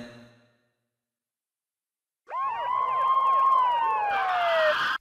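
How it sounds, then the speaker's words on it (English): Police siren in an Ace Attorney fan-made video game comes in after a short silence, a wailing, rising and falling electronic tone that grows louder and nearer, with no speech. "The police! It sounds like they're coming this way."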